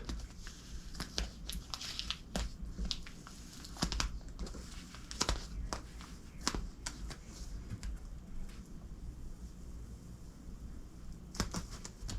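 Masking tape is peeled in short pulls from a guitar fretboard, giving close, faint crinkling and crackling with scattered sharper ticks at irregular intervals.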